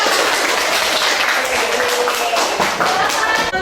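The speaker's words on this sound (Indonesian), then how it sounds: "Tepuk tangan kita semua." A classroom group claps together in a brisk, loud burst of applause that carries on steadily.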